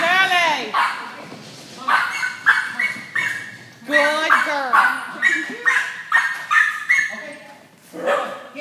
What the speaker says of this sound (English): I've never heard her bark before.